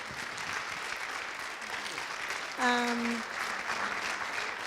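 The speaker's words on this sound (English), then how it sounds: "So please, everyone, join me again in applauding" Sustained audience applause fills a gala anniversary celebration at a synagogue, steady and broad throughout, with a brief spoken or musical tone rising over it midway.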